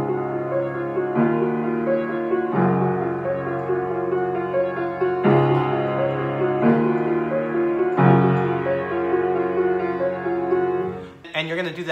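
Piano chords from a song played with both hands, long sustained chords changing every second or so over a low bass, close and full, ending with a brief shuffle of noise.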